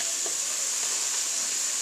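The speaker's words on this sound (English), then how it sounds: "I'm going to saute these onions and these peppers for a little while with that" Onions and peppers sautéing with browned hamburger in a pan for a cheeseburger casserole, a steady close hiss and sizzle running evenly throughout with no talking.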